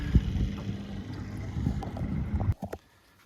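A boat carries riders across open water to camp, giving a steady low motor rumble with wind buffeting the microphone before it suddenly drops away near the end.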